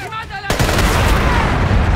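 Gunfire in the video game Splinter Cell: Conviction bursts in suddenly and keeps going as a dense, loud barrage, following a brief moment of someone talking.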